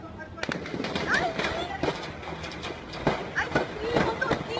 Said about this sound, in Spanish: ¡ay, dos tiros!